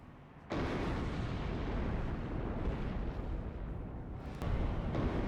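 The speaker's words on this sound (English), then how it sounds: "Coming in with some napalm." Napalm strike in a Warhammer 30K game mod, a sudden heavy roar of explosions that rumbles on continuously like artillery fire, with a fresh burst near the end, loud and without speech.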